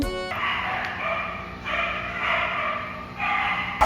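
A dog barks and yips in short bursts, muffled as if heard through a thin wall into a room, with a few pauses between the bouts.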